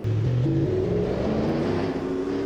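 A synthetic-sounding car engine in the video game BeamNG hums and shifts pitch in stepped tones, steady and close, with no voices.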